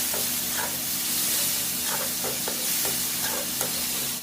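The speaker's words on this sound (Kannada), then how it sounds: "ಚಾಪ್ ಮಾಡಿದಂತ ಟೊಮೆಟೊ ಹಾಕ್ತಾ ಇದ್ದೇನೆ." Chopped tomato fries in oil for crab curry, giving a steady close sizzle with occasional scraping stirs.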